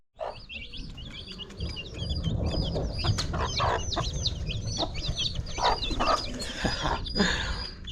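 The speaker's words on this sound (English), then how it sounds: "I'm trying to feed our small chicks with some rice." Small chicks peep and cheep in a busy, continuous chorus while being fed rice at home, close and fairly loud, with rustling and light pecking underneath and no talk.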